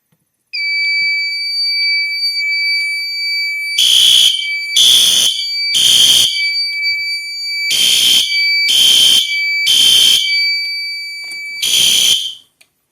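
Fire alarm panel test in progress: a sustained electronic alarm tone rings steadily while seven loud, evenly spaced horn-like blasts pulse over it, each about half a second long, with no voices.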